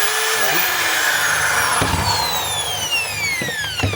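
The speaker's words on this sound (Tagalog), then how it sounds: "So, gumagana yung hammer mga kabay," A DeWalt DWD024 1/2-inch hammer drill running in hammer mode, giving a loud continuous motor whine that changes pitch as it spins down and back up, with rattling hammer-action noise heard up close.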